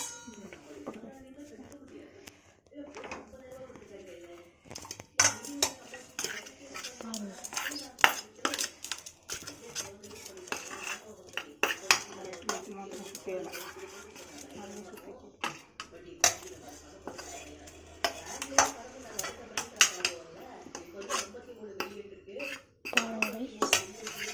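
Cooked puttu is moved from the steamer into a bowl with metal utensils, giving irregular clinks, taps and clangs of steel on steel, with a person talking quietly throughout.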